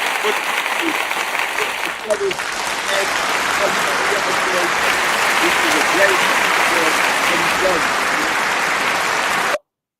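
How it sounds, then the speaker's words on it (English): A crowd applauds for a long stretch, dense and loud with steady clapping and scattered cheers. Voices can be heard faintly under it, and the sound stops abruptly at the end. "So a round of applause."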